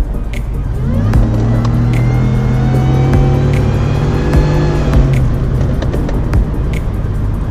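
A 2018 Ford F-150 with a Whipple-supercharged 5.0L V8 accelerates hard, a loud steady engine roar climbing through the gears from inside the cab, with a few clicks and no talk.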